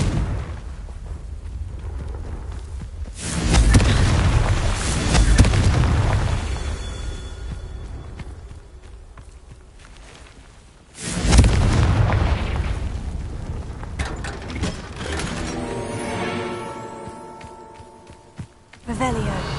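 Confringo blasting spells go off in the game Hogwarts Legacy, two heavy booming explosions several seconds apart with rumbling tails and scattered crackles, a voice talking over parts of it.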